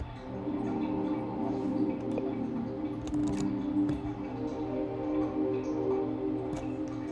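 A synth pad through a Big Sky reverb pedal set fully wet, giving a washed, choir-like sustained drone with a thick low-mid body and faint clicks, continuous and moderately quiet, no voices.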